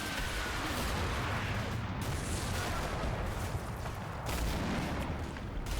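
Dense, continuous gunfire and distant booming explosions fill a modern battle in the war game Combat Mission Shock Force 2, with overlapping bursts and rolling reports throughout and no voices.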